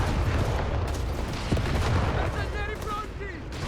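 Dense battlefield gunfire and explosions in the Company of Heroes 3 strategy game, with a machine gun in play: rapid cracks and booms over rumbling noise, a voice speaking over the din.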